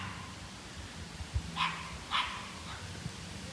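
Several small dogs, three chihuahuas and a Jack Russell-type mix, let out a few sharp, high yapping barks at a moderate distance outdoors by a creek, in short bursts spread over a quiet background.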